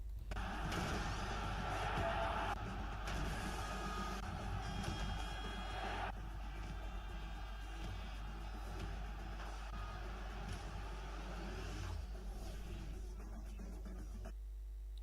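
The FIFA 12 video game intro plays as a faint, busy mix of crowd noise, vehicle sounds, slams and music-like tones, shifting in sections over about fifteen seconds, with voices speaking in it.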